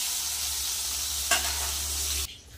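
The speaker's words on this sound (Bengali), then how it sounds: "এখানে দিলাম কুমড়ো, পটল আর সিম, ভাজা হয়ে যাবে।" Pumpkin, pointed gourd and beans fry in hot oil, a loud steady sizzle with one sharp crackling burst partway through before the sound drops away abruptly, no voices.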